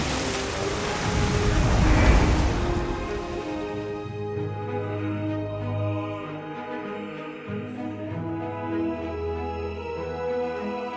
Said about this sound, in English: Come on, before the storm decides to sweep us away.